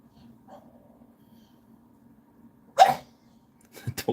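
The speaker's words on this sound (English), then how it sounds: "The dog's making some rather funny noises." A dog makes a few odd, funny noises: one sudden loud snort or sneeze-like burst near the end, followed by a couple of short sharper sounds, over a quiet indoor background with a low steady hum.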